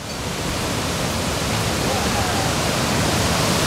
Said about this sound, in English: I haven't seen a waterfall like that in a long time.